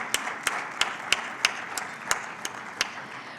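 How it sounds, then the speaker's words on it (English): Sparse, evenly spaced claps at a policy dialogue event ring out one by one in a regular rhythm of about three per second over a faint room murmur, more like a small scattered audience than a full ovation. "Big round of applause, please."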